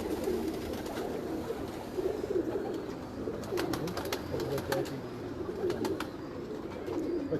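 Breeder pigeons at a loft cooing steadily, with a female among them; soft, overlapping low coos repeat in a continuous rhythm, fairly close, with light background noise and no talking.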